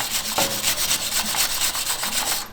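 A wire brush scrubs rust off Toyota 4Runner front brake parts in quick, rhythmic back-and-forth strokes, a close, gritty rasping that repeats steadily with no talk.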